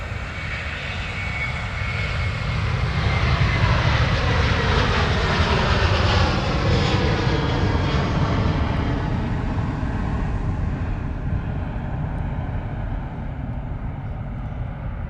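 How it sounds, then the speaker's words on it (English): Airbus A330 jet engines at Manchester Airport, a powerful, continuous roar that swells over the first few seconds, holds loud and broad, then slowly eases as the aircraft passes, with no talking. "Great sound from the 330."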